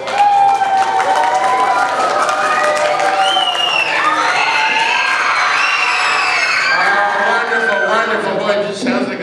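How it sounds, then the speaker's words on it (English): Children in the audience at a magic stage show scream, shout and cheer continuously, loud and close, with whoops rising and falling across the crowd. "it just sounds like a sleepover, doesn't it? All the screaming"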